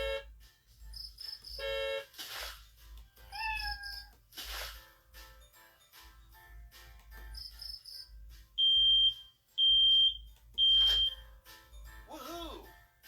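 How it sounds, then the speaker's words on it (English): A smoke alarm gives three loud, piercing beeps near the end in an even rhythm, following quieter scattered sounds, cat-like meows and faint noises earlier. "You heard the smoke alarm and you went outside."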